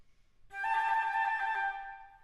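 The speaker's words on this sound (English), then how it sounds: "let me play you how we play trills as modern flutists today without that appoggiatura." A modern flute trill without an appoggiatura: a single sustained, shimmering tone with rapid alternation, rising from silence, held about a second, then fading, quiet and close.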